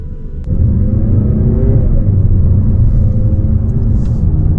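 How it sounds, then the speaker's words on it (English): A 2026 Mazda 3 Select Sport hatchback with a naturally aspirated inline-four and six-speed automatic pulls away, its engine a loud, steady drone that swells as it accelerates and holds strong throughout. "And it just takes off beautifully, right?"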